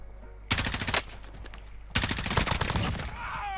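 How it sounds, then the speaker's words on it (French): Automatic rifle fire in the video game Warzone, two sustained loud bursts of rapid shots separated by a brief pause, close and dominant. "Quelqu'un me tire dessus"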